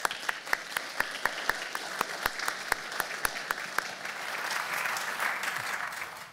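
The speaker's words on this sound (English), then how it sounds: "so we can have a round of applause for you guys." Audience applause at a university public lecture hall, opening with distinct individual claps that quickly merge into a steady, dense round, swelling slightly toward the end.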